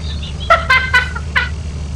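A handful of short, bright bird calls in Lethal Company, four quick chirps in close succession over a low steady hum, no speech.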